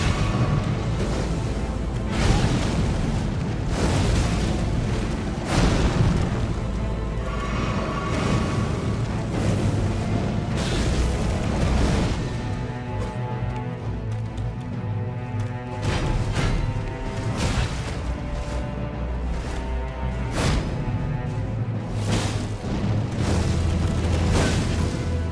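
Explosions in the video game Elden Ring Shadow of the Erdtree during a boss fight, heard as a dense, loud run of repeated deep booms and crashes layered over continuous game music.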